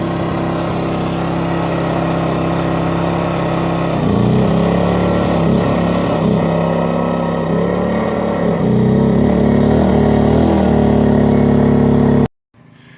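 A generator drones steadily while powering a small Chinese welder, its engine note dipping and surging under load in uneven pulses, loud and close, then cutting off abruptly at the end.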